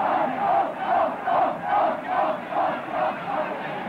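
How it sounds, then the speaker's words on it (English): A football crowd at a 1966 First Division match between Tottenham Hotspur and Leicester City chants a single word in a loud, steady rhythm, about one swell every half second, rising and falling across the stands. "The crowd chanting off,"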